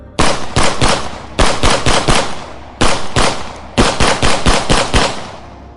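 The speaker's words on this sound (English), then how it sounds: "here's some gun sounds for you" Rapid automatic gunfire from the third-person shooter video game Remnant 2, loud and close, arriving in four tight bursts of several shots each with brief pauses between.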